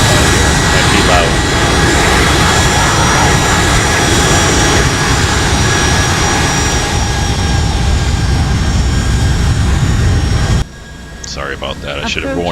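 Boeing 757-200 jet engines in the X-Plane 11 flight simulator give a loud, steady roar with a thin whine above it, then drop sharply near the end as a voice starts talking.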